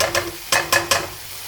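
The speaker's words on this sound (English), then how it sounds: "So now that this thing is sizzling, this thing is still cooking" A burger patty sizzles in a hot pan, with a few short bursts of crackling and stirring scrapes, then a quieter steady sizzle.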